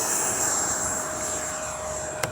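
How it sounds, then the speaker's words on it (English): A Freewing L-39 80mm electric ducted-fan RC jet takes off, its loud, steady high-pitched turbine whine roaring continuously and close by, ending with a brief sharp click. "Let's take off one more time."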